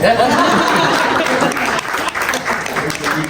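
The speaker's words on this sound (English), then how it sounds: "we can absolutely clap" A conference audience in Chicago claps steadily and loudly, a thick, continuous patter of many hands, with a little laughter and chatter mixed in beneath.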